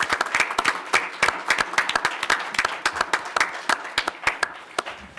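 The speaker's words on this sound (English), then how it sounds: "could I ask for a round of applause for our Records Bureau staff" Round of applause from a small council meeting audience, individual claps clearly distinct and sharp, rhythmic and close, holding steady for several seconds.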